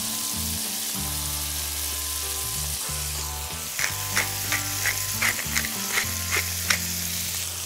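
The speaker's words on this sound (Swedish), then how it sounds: "Nu ska den här steka ungefär 2 minuter på varje sida." Beef sizzles steadily in butter in a hot pan, with a low hum beneath and periodic scraping or turning noises in the second half.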